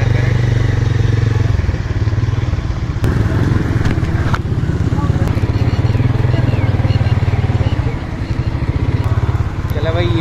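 A motorcycle rides slowly through a rain-soaked, muddy market, its engine chugging loudly and steadily throughout with a few clattering thumps over the rough, wet ground.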